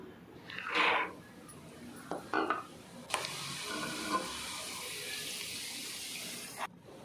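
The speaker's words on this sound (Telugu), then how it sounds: "1 కప్పు పుట్నాలు వేసి ఫ్రై చేసుకుందాం. అలాగే 1 కప్పు పల్లీలు కూడా వేసి ఫ్రై చేసుకోవాలి." Roasted chickpeas and peanuts frying in a pan for a crispy poha snack; a spoon stirs and scrapes in short bursts, then a steady close sizzle and crackle takes over.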